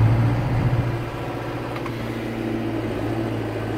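A Renault Celtis 456 RX tractor engine pulls away in forward gear, a low, steady diesel drone with a firm rumbling tone that stays close and constant throughout.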